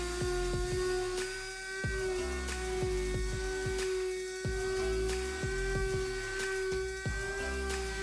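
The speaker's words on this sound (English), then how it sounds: "we're gonna start with sanding this with 180, or just with 80 grit sandpaper" A steady motorized whine with a strong constant hum, punctuated by brief clicks and knocks, like a power sander running close by without pause, sanding a dresser with 80-grit sandpaper.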